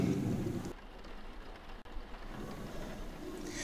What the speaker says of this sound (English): It was raining hard the whole day.